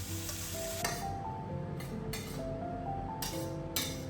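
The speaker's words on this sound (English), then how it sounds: "toss in the sprouts and stir-fry quickly over high heat" Bean sprouts and garlic stir-fried over high heat in a wok give a steady close sizzle. Quick tossing adds bursts of scraping and a few light clinks, and nobody speaks.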